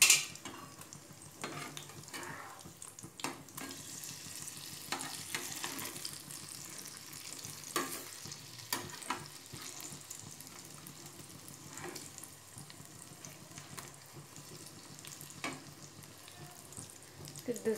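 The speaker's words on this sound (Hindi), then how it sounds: "अब इसे एक तरह से अच्छी तरह से फ्राई होने दीजिए। अब ये फ्राई हो रहा है," Bottle gourd slices pan-fry with a soft, low sizzle, punctuated by scattered light clicks and scrapes as pieces are turned in the pan.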